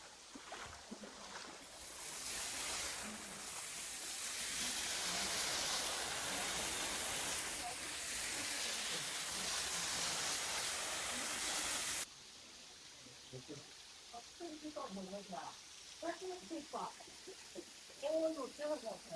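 A waterfall beside a knee-deep river crossing on the road to Sidemen, a loud broad rushing roar that fills the first twelve seconds, then drops away abruptly to quieter water sounds and a person speaking.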